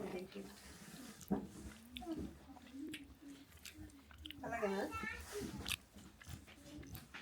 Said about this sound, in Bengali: আগে স্কচটা খেয়ে দেখি একদম সফট গইলা গেছে একদম